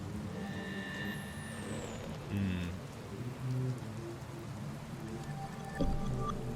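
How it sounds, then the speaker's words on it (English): Steady rain pattering on surfaces in the streets of Seoul in the game Secret World Legends, a constant soft hiss with a few louder thuds and faint tonal game sounds, no speech. "As you can see, it is always rainy in Seoul"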